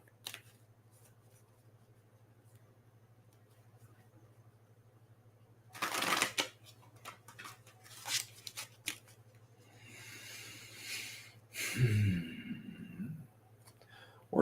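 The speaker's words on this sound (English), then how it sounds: "Let me get another good shuffle or two." Oracle cards are shuffled by hand in short bursts of papery riffling and flicking, close and moderately loud, separated by pauses over a steady low hum.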